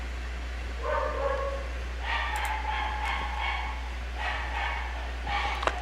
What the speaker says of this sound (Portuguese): se vocês estão ouvindo o latido aí, é dos cachorros que tem no vizinho